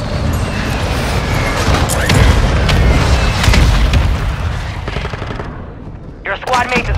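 Grenade blast and heavy gunfire in Call of Duty: Modern Warfare II, a loud continuous barrage of booms and rapid shots that fades near the end as a brief voice speaks over it.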